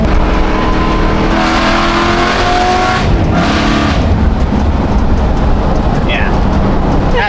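A modified BMW F81 M3 wagon engine holds steady revs around 4,000 rpm, giving a loud sustained drone that changes midway as the revs are held. Faint voices can be heard at the end.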